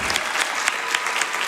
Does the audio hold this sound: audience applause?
yes